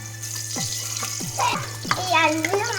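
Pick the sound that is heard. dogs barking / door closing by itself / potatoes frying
potatoes frying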